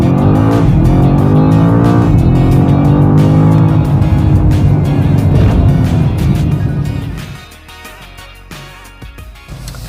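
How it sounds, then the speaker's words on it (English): A BMW M5 launches hard from a standstill under launch control, its engine roaring loud and close with rising pitch through several upshifts, brief tire noise at the start, before the roar drops away to a quieter cruise near the end. "Okay, let's do a quick launch of the M5. 0 to 100 sprint."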